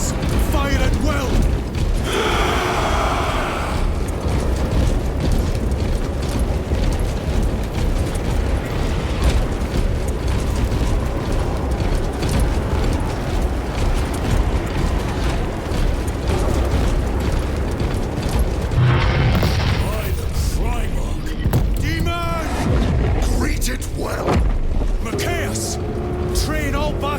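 Battle gunfire and explosions from the Warhammer 40K Space Marine game, Ultramarines against Thousand Sons, form a dense, loud, continuous roar of mechanical clatter and blasts, with shouted voices breaking through near the end.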